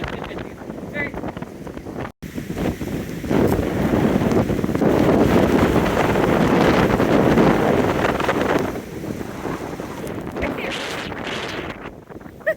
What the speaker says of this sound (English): It was extremely windy.